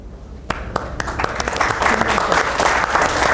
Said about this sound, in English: A hand of applause for them.